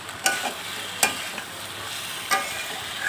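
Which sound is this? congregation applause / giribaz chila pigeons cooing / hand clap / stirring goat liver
stirring goat liver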